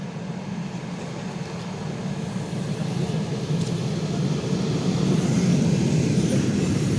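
An ER9M electric commuter train on the Fastiv–Sviatoshyn line rolls past a station platform, a steady, close rumble that swells slightly as it passes, with no voices.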